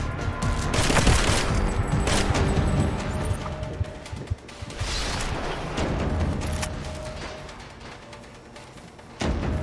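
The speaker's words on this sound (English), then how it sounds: "Why's that thing even shooting at me?" A hostile robot opens fire in Deus Ex: Mankind Divided, a dense, loud fusillade of rapid gunshots that rolls on for several seconds, dips briefly, then surges again with a sharp burst near the end.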